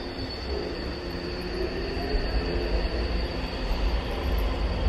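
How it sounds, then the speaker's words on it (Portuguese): São Paulo metro train at Brás station, a steady loud rumble of rolling carriages with faint wheel squeal throughout, no talking. "Esse é o metrô aqui, nós estamos na estação Brás"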